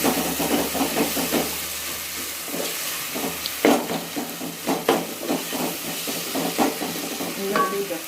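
Ingredients for a prawn kulambu sauté in a pan with a continuous close sizzle and hiss, punctuated by repeated clattering stirs, with no talking.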